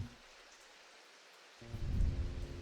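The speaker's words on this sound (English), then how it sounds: "That rain sound outside is so nice." Steady rain falls outdoors, a soft continuous patter that grows louder and fuller partway through, with lower rumbling body joining in; no voices.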